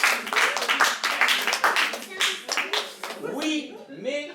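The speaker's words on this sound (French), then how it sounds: "Applaudissez la poétesse, s'il vous plaît." Audience clapping for a poet at a slam poetry tournament in Garbejaire, distinct rhythmic hand claps at first, then a voice speaking over the tapering applause near the end.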